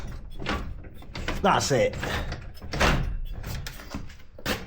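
A hidden entrance door for an escape tunnel, rehung on a new wheel, rolls and thuds open and shut nearby with rumbling and knocking, under a man's speech.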